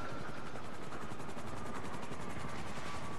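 Helicopter in the video game GTA V, a steady rotor drone with rapid regular chopping pulses that holds at an even level throughout, with no speech over it.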